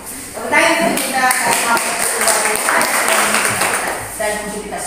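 An audience claps in a steady patter during a school learning session, the applause partly masked by a voice talking over it.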